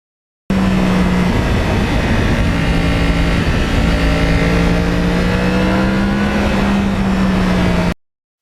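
A custom Yamaha R1 crossplane motorcycle engine roars loudly and close, holding a steady throbbing drone with small rises in pitch, continuous and alone for about seven seconds.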